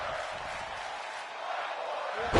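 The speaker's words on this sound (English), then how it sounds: "And the crowd is loving this matchup here." Arena crowd noise from the WWE 2K25 wrestling video game, a steady broad roar of cheering that holds evenly and swells slightly at the end, heard alone without commentary.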